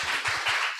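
Brief burst of a few hand claps from a small audience, quick and close, lasting under a second with no talk over it.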